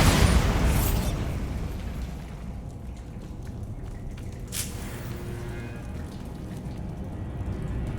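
A Bombarda spell in a video game detonates with a loud burst that decays into a crackling, debris-like rumble, followed by a sharp pop partway through and lingering low ambience.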